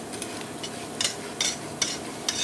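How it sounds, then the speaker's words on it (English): A whisk works sourdough starter and buttermilk in a bowl, giving several quick, bright scraping strokes in an uneven rhythm over soft background noise. It is close and moderately quiet, with no voices. "Whisk it all together."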